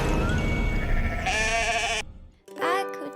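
Sheep bleat in wavering, nasal calls, one drawn out mid-clip and another rising near the end after a short gap, with people talking over the animals.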